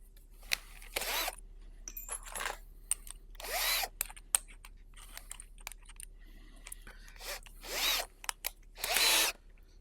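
Cordless power drill backing screws out of the back panel of an old Laney PA amplifier head: several short whirring bursts separated by quiet pauses and small clicks of screws and handling, close-up.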